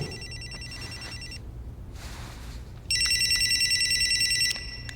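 A mobile phone rings in a movie scene during a conference, an electronic ringtone in two bursts, the second louder and closer, over a low background hum without speech.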